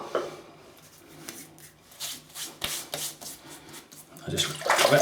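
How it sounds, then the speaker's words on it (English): Water splashing and hands rubbing as a face is wetted before shaving with Proraso Wood and Spice soap, soft wet patting and dripping that swells into louder splashes at the end, close by. "I just wet my face."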